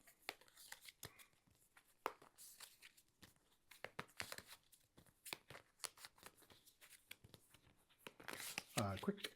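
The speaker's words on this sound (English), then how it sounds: "let me quickly give these a quick shuffle" A deck of cards from the board game Glen More II: Highland Games is shuffled, giving rapid, irregular papery riffles and snaps, close and fairly quiet, with brief speech near the end.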